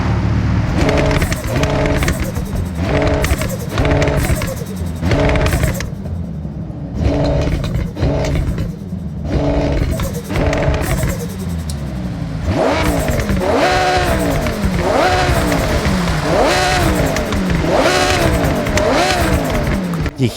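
An Audi R8 V10 tuned with twin turbos and anti-lag in the Forza Horizon racing game roars through repeated loud revs and gear changes, with sharp rising and falling engine pitch that pops between shifts.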